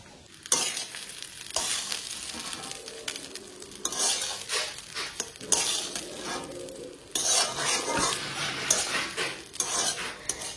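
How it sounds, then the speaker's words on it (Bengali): Fried rice reheated in a pan, a spatula scraping and stirring against the metal in repeated strokes over a steady sizzle, close and fairly loud with no talking. "তো চলো ফ্রাইড রাইসটাকে ভালো করে গরম করি।"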